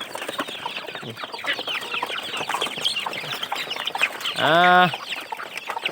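Mixed-breed backyard village chickens, local birds kept together, cluck and chatter steadily up close, with one louder drawn-out crow-like call rising near the end.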